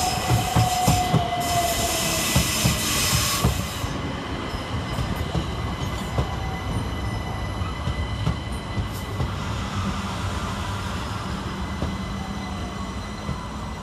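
Southern Railway Class 377 electric units move through Clapham Junction station with steady rumbling, rail clatter and a faint wheel squeal early on, sustained and fairly close throughout.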